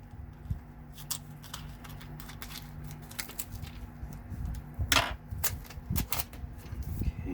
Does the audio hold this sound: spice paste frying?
no